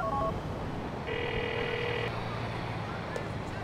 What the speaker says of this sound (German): Ich ruf mal die Michelle an